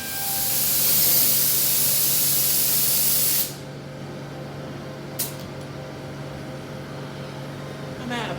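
A spray gun hisses loudly for a few seconds while applying a first coat of paint to vehicles, then cuts off, leaving a quiet background hum with a brief click.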